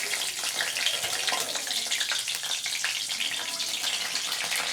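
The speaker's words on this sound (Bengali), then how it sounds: "তেল গরম হয়ে গেছে। এবার আমি এর মধ্যে জিরে ফোড়ন দিলাম, আর দেবো আমি ছোট ছোট 2টো তেজপাতা করে।" Cumin seeds and two small bay leaves hit hot oil for a vegetarian bottle-gourd and moong dal dish, producing a constant close crackling sizzle with a watery hiss, no voices.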